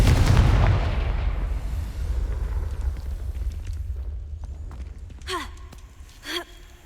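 A Confringo blasting spell explodes in the Hogwarts Legacy video game with a loud low rumbling boom that fades slowly, followed by two short whooshing bursts.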